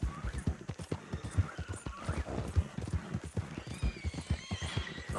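Horse hooves clip-clop steadily in Red Dead Redemption 2, a close, rhythmic run of hoofbeats with a whinny mixed in, and no talking over it.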